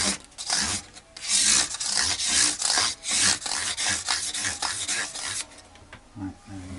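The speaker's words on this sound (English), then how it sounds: "I'm going to just file down the nut a little bit" A file rasps back and forth across the nut of a Squier Standard Telecaster guitar in steady, close strokes, each scraping pass followed by a short pause.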